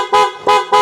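Three short, loud honks from a PIAA motorcycle horn on a KYMCO AK550 in quick succession, each a bright, sharp toot, close by.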